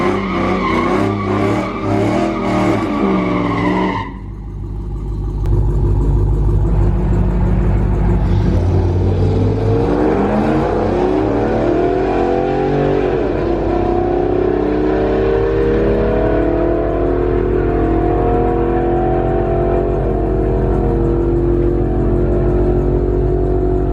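A Ram truck with bolt-on upgrades launches down a drag strip, tires squealing before a loud engine roar climbs and holds through the pass.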